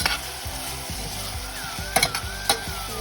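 Potatoes frying for Bombay potatoes, a close, steady sizzle with a low bubbling undertone and a few sharp spatters and pan knocks.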